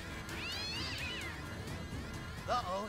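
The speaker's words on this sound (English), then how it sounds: "You gotta let more cats out." Cats meowing after being let out in the South Park: The Fractured But Whole video game, a couple of drawn-out wavering meows followed by a shorter cry near the end, over a steady game background hum.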